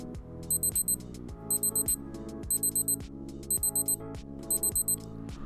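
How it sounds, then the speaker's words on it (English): A Casio G-Shock Skeleton watch timer alert beeps in repeated short bursts of four rapid high-pitched beeps, each burst about a second apart, heard close over a steady background hum. "So let's check out the flash alert on this timer real quick."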